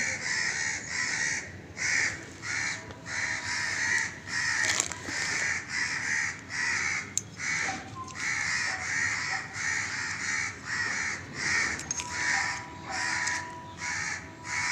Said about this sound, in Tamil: ரொம்ப நேரமாக காக்கா கத்திக்கிட்டு இருக்கே